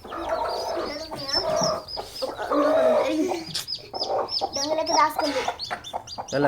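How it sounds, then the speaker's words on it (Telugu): Chicks cluck and chirp close by in a busy, continuous mix, with people's voices murmuring underneath at times. "చూడండి మా కోడి పిల్లలు చూడండి."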